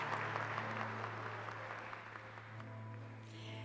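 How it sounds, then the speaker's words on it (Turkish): A studio audience claps for a poet on a televised singing-contest stage, a soft, distant patter of applause over a steady low hum, fading slightly as it goes. "Alkışlarınız Ayşe Egesoy için."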